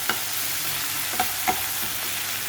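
Ginger paste, garlic and onion frying together in a pan, a soft continuous sizzle with three brief clinks of a spoon against the pan.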